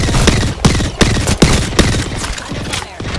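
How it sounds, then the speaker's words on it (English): Rapid bursts of gunfire in Apex Legends, loud and close, with sharp repeated shots and short volleys in an uneven rhythm. "Under fire!"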